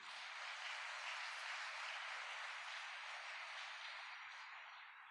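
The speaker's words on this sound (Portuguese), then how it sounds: "Aleluia, salve de palmas para o Senhor Jesus." Sustained church applause from a congregation, a dense steady clatter of many hands clapping without pause, loud and even before easing slightly at the end.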